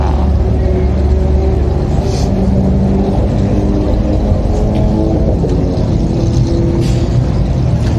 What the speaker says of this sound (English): Sounds like something going down at Queensland Raceway. You can hear engines.